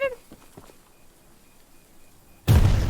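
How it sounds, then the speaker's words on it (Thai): A bomb goes off in the horror game Choo Choo Charles, a sudden loud broadband blast arriving late after a quiet stretch with faint ambience, then roaring on until the end. "อูระเบิด"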